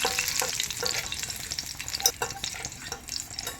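Dried red chillies fry in oil in a pan for an instant mint and herb chutney, with a bright, steady sizzle and occasional stirring scrapes, close and alone without speech.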